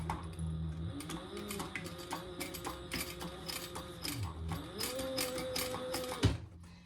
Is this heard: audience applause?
no